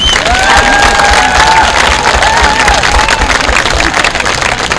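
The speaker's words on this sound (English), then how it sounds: "have one more round of applause for our 1986 Division II champions" A crowd applauds the 1986 Division II football champions at a reunion event, with loud, sustained, dense clapping and scattered cheers filling the whole stretch.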